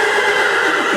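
A horse neighs loudly and close by, one sustained whinny filling the whole moment with no talking.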